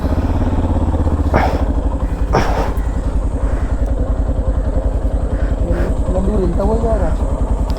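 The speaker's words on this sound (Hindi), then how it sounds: "बाइक करते हैं चालू।" A motorcycle engine running at a steady, loud, rapid thumping idle close by on a trekking trip to Tungnath, with people talking briefly over it.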